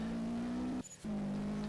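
A rally car engine in Roblox WRC holds a steady, droning tone, cuts out briefly mid-run, then resumes at the same pitch.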